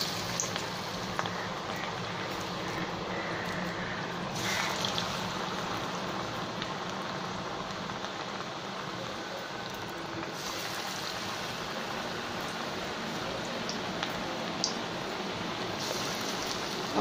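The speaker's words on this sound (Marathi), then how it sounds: "छोटे छोटे भजीचे गोळे आपल्याला तेलामध्ये सोडायचे." Chana dal pakoda batter balls made with besan, onion and coriander sizzle in hot oil over a low flame, a steady dense crackle and bubbling with slight swells, close and continuous.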